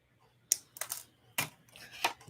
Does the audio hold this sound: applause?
no